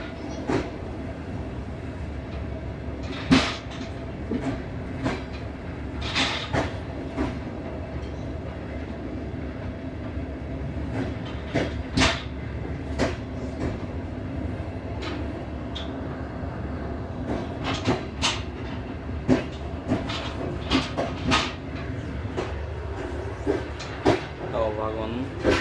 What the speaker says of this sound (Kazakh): Алматы 2 вокзалы.